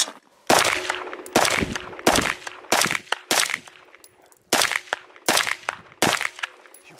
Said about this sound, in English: I'm gonna take like 7-8 shots out of this so you guys can see it in action.